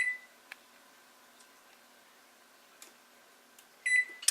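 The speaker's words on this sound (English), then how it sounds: "I'm going to set the timer for 10 minutes." Oven timer set for ten minutes while roasting red peppers for a sauce, giving a few faint ticks and clicks followed by a short burst of bright electronic beeps near the end, in a quiet kitchen.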